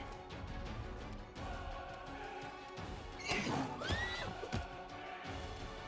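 A horse whinnies in the fantasy role-playing game Pathfinder: Wrath of the Righteous, a rising, wavering cry over steady battle music and combat clatter during a fight against demon armies.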